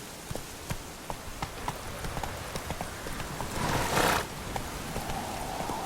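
Roach the horse from Witcher 3 trots through rain, hooves clip-clopping in a steady rhythm over a constant hiss of rainfall that swells briefly near the end.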